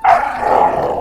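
Family dogs bark and growl at a fancy new RC car driven in front of them: one loud, close, rough bark-growl that holds for about a second with no talking.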